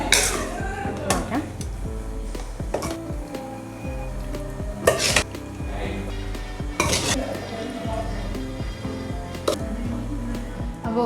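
A spoon stirs Kerala-style chicken stew in a pot, with scattered metallic clinks and scrapes against the pot over a low background hum, some louder knocks standing out.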